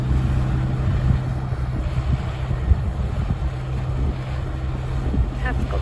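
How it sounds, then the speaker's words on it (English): Strong June wind blows around a narrowboat on a canal, a constant low roar and buffeting rumble close to the microphone, with a faint engine hum underneath. "Seems to be lots of wind for June."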